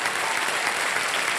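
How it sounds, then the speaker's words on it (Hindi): Studio audience applause for a contestant on the KBC quiz game show: dense, steady clapping from a large crowd, holding at an even level throughout with no voices. "तालियां बज जाए इनके लिए।"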